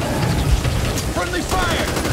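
Gunfire in the zombie shooter game Back 4 Blood, loud dense bursts of rapid shots layered with game effects, with voices speaking over the action.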